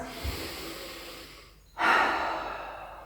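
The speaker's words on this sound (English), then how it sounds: "I'm going to take my 2 big breaths." Yoga practitioner taking deep cleansing breaths, a long slow exhale fading out, a brief pause, then a strong sharp inhale close to the mic that tapers off.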